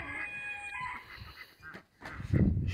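A small black rooster with a damaged tail crows on a farmyard, one drawn-out call rising over faint background noise, with a louder low rumble near the end.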